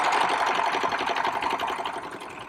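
Serger sewing machine stitching a fabric side seam, a fast continuous mechanical whir with fine rhythmic chatter, close and steady for a couple of seconds with no voices.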